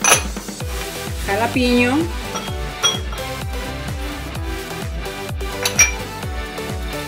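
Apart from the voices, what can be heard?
mixing cilantro and onions in a small bowl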